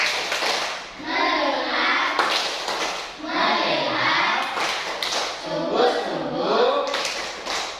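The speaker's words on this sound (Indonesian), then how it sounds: "kita tepuk fokus dulu semua" A class of children does the 'tepuk fokus' clapping chant, with rhythmic group claps and taps between bursts of loud sung chanting in a classroom.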